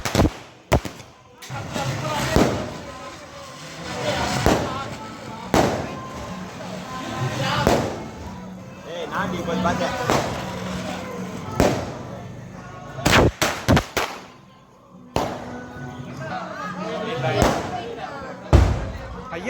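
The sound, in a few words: large firecracker exploding at temple Diwali festival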